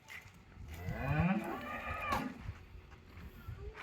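A calf moos loudly and close by in one drawn-out, wavering call as it is loaded from a farm shed onto a vehicle at a raised mound. Lower rumbling and handling noise continue around it.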